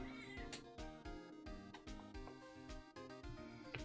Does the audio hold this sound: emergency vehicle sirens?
no